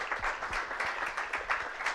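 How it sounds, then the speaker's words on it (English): An audience at a physics lecture on dark matter applauds the speaker, a moderate, steady patter of many hands clapping with individual claps audible through it. "So let's give an applause to Gianfranco."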